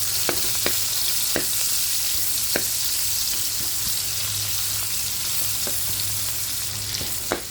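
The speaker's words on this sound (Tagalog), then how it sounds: "Tatabilin natin siya ng konti para gisayin natin yung ating ricado. Yan, lagay ko na yung ating sibuyas." Onion sautés in oil in a pan for green bean adobo, giving a constant close sizzle with occasional sharp clicks from a utensil against the pan.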